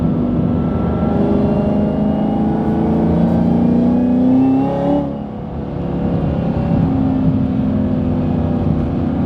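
A Chevrolet Camaro ZL1 accelerating at night, its loud engine note rising in a steady rev, easing briefly and then pulling again, heard from inside the car.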